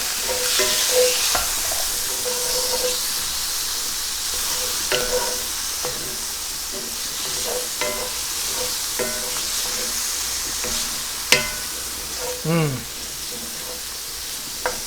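Fish cooking in a cast iron pan sizzles steadily up close, broken by scattered scrapes and clinks of stirring, with a few brief sharper knocks and faint background voice sounds.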